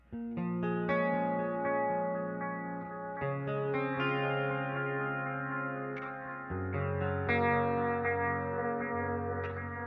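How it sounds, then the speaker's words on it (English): Electric guitar chords ring out through a Joyo Jam Buddy II practice amp's analog delay, each strum trailing off in repeating echoes that blur together, played alone without talking. "That's a nice, good quality analog delay."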